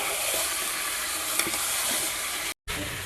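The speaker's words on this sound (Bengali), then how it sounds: "তো এই যে আপনাদের দাদাভাই এখানে নাড়ছে মাংসটা" Meat fries in a pan while being stirred, a steady close sizzle with soft scraping and a brief clack partway through, no talking.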